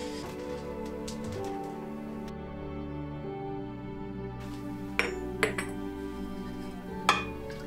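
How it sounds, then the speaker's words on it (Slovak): Homemade black locust syrup is poured into sterilized glass bottles that are then closed, giving a few sharp glassy clinks and knocks over a steady humming background. "Nalievam do vysterilizovaných fľaš, zatvorím a otočím hore dnom."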